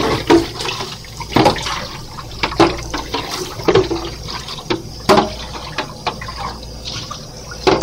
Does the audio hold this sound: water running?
yes